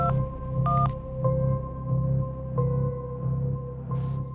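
Telephone keypad dialing tones, a series of short evenly spaced beeps, loud and close, alone without any voice.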